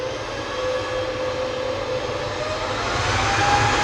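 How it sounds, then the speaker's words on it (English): An EasyJet airliner on approach to land at Manchester Airport, a steady distant engine roar holding at an even level throughout, with a faint tonal whine running alongside and no talking. "See a plane coming in"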